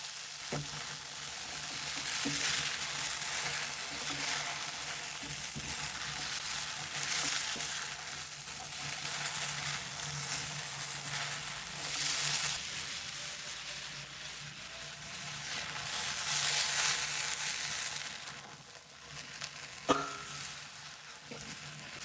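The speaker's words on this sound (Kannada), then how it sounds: "ತುಂಬ ಹೊತ್ತು ಬೆಂಡೆಕಾಯಿ ಫ್ರೈ ಮಾಡೋದು ಬೇಡ. 5 ನಿಮಿಷ ಫ್ರೈ ಮಾಡಿದರೆ ಸಾಕು" Okra sizzles and fries steadily in a pan for a long stretch, with a broad continuous hiss, light stirring scrapes, and a sharp clack near the end; no voices.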